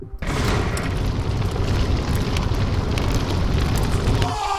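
A sustained roaring burst of fire in the video game Crystal Rift, a loud dense rumble that erupts suddenly and holds steady for about four seconds before cutting off.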